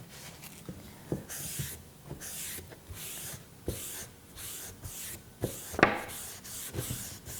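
A clean cloth wiping excess hemp oil off a wood surface, giving steady rhythmic rubbing strokes close by with no talk.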